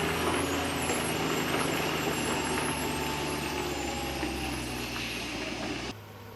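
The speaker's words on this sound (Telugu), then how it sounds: "చాలా హెవీ లోడ్ ఇది." A heavily loaded 14-tyre lorry creeps down a ghat road, its engine a steady close drone with faint hissing layered over it, easing off just before the end.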